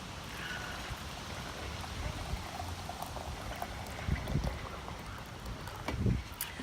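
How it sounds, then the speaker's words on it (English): Hot water poured into a mason jar of lilac blossoms, a steady liquid trickle and splash running throughout with a few louder gurgling bursts near the end. "When I pour hot water in a mason jar, I always add a metal knife."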